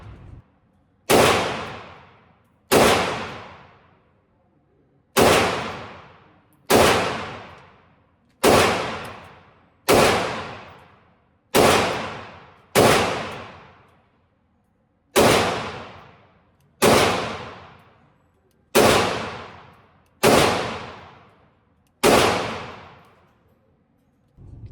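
A PSA 5.7 RK1 pistol fires single shots at a steady, deliberate pace, about a dozen loud, sharp reports, each with a quick ringing decay, heard outdoors without any talking.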